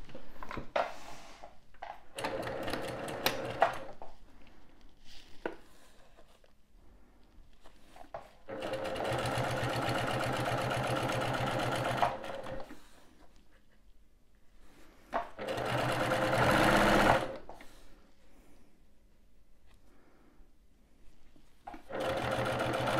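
Sewing machine stitching a fabric pouch, with several bursts of rapid mechanical whirring separated by pauses and small handling clicks, the longer runs steady and close.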